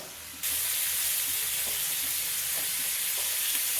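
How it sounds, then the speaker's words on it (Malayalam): Prawns frying on high flame in a pan with butter, a loud continuous sizzle that jumps up sharply after a quiet start and holds steady, with faint utensil taps, no voices. "പ്രോൺസ് ചേർത്ത് കൊടുക്കാം. ഹൈ ഫ്ലെയിമിൽ വെച്ച് ഒരു സൈഡ് 30 സെക്കൻഡും മറിച്ചിട്ട് ഓപ്പോസിറ്റ് സൈഡ് 30 സെക്കൻഡും ഒന്ന് കുക്ക് ചെയ്തെടുക്കാം"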